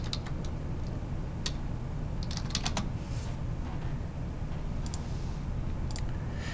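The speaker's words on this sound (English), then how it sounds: "I'll just type out the whole thing." Fast, steady typing on a computer keyboard in a spreadsheet program, with a stream of light close key clicks over a constant low background hum.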